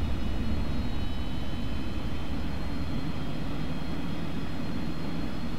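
A Delta DC-9 jet engine spins up in Flight Simulator 2004, a steady, dense roar with a whining hum held throughout, loud and unbroken with no talk.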